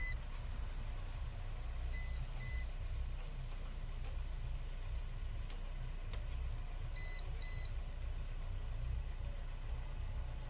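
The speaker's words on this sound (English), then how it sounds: "I'm testing with my tester" An electrical tester emits a few short, high, clear beeps, in pairs near the start and again later, while house exterior light wiring is being tested. A steady low background hum runs underneath, with no talk.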